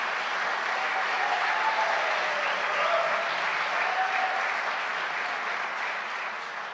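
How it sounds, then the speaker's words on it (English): A large audience at a Liverpool University graduation ceremony claps in a sustained, dense round of applause that holds steady and fades slightly at the end. "Give me a proper round of applause, please."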